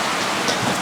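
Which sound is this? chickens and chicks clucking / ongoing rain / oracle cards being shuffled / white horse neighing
ongoing rain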